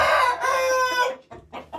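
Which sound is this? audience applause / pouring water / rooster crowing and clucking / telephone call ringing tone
rooster crowing and clucking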